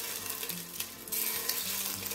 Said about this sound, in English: we'll go in first with a little bit of olive oil. And we're just going to start browning our meatballs